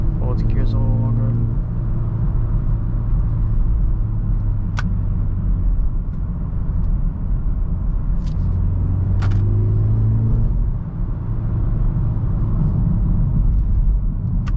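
From inside a 2024 BMW 330i driven in sport mode, a steady, loud engine and road rumble fills the cabin with slight swells in pitch, while a person talks over it.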